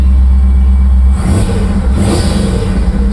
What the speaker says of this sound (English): You can hear the blower a little bit.